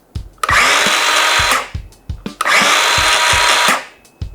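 A DeWalt DCS373 cordless miter saw on a 20V battery whirs loudly in two bursts of about a second each, spinning up and winding down, with clicks and handling knocks between runs.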